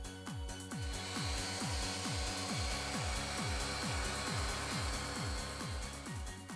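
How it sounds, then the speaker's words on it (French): An orbital polisher whirs steadily up close, sanding a headlight, with a fast, regular rubbing sweep repeating about three times a second against a hissy grinding texture. "là j'ai changé de machine, ça c'est une polisseuse orbitale"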